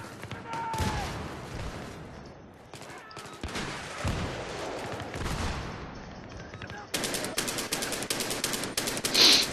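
A PP2000 submachine gun fires in Battlefield 3, rapid bursts of gunfire crackling repeatedly amid other distant shots, with a voice talking over the action.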